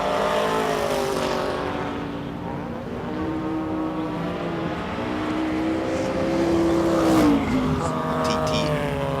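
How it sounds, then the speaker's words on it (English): A 2002 Audi TT racing up the Simola hillclimb, its engine revving and shifting through rising and falling pitches at moderate distance, with a commentator talking over it throughout. "Here's the Audi TT with John Carlos de Silva aboard. It's a 2002 model."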